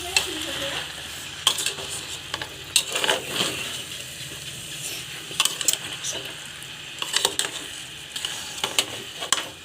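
Chicken pulao mixture with peas and carrots being stirred in a small pressure cooker, a soft steady sizzle broken by repeated scraping and clanking strokes of a spoon against the metal.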